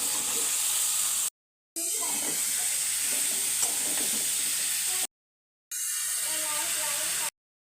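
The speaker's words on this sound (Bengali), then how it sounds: "এমনভাবে কষিয়ে নেবে যাতে পেঁয়াজ রসুনের গন্ধটা না থাকে" Onion, garlic and spices frying for a taki fish and radish curry, a continuous close sizzle and stirring scrape broken by two brief silent gaps, with a voice faintly present at times.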